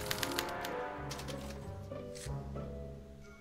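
A special typewriter printing out a punch card in the Back to the Future video game, quick bursts of clicking keystrokes and mechanical taps, fairly faint, with music-like tones underneath.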